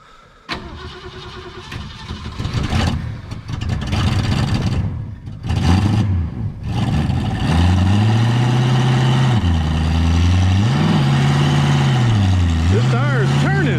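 A 1964 Ford Fairlane 500 hardtop engine cranks, catches and starts, then settles into a loud, rough idle with a few throttle blips. Voices are heard over it.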